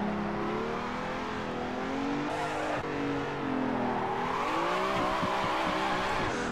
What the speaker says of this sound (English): There, I drifted!